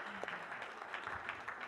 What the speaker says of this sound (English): I like having the buffer where we clap.